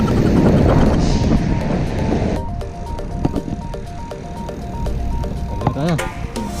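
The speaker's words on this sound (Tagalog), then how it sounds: "Ang ingay mo, truck ah." A noisy truck passes on a road at night, a loud rumbling roar that peaks and then fades, followed by lighter traffic and tonal warbling sounds, with someone speaking briefly.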